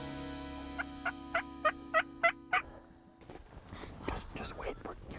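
Wild turkey gobblers heard from a hunting blind: seven loud, rapid gobbles in a close, rising burst, followed by softer rustling and faint movement nearby.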